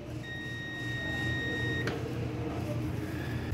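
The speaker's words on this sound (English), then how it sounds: "So now when I touch this, it should beep." A multimeter gives one steady, high continuity beep lasting about a second and a half while testing the high-limit thermostat of a Whirlpool Duet dryer, heard alone in a quiet room.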